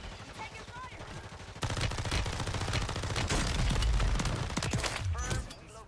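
Bursts of rapid gunfire in a Call of Duty Warzone match on Rebirth Island, loud, dense volleys from about two seconds on, with players talking over the shooting.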